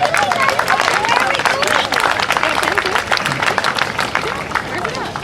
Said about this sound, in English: please give them a big round of applause for all the effort and hard work that they do